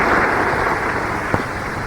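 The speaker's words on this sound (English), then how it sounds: "Let's listen to the applause." A cricket crowd at Trent Bridge applauds Boycott, a broad, steady wash of clapping heard as if from a distance, with one sharper knock near the end and no talk.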